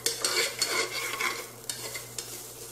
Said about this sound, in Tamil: இதோட தேங்காய் துருவல் போட்டு வதக்கிக்கோங்க